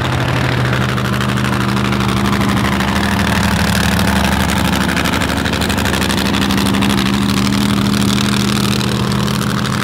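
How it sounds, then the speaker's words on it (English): Big race motor of a mud racing Jeep at a Naples mud bog event, a loud steady lopey idle with a deep rumbling cackle and slight revving throughout, close by with no talking. "Hear the cackle of that big race motor in that thing."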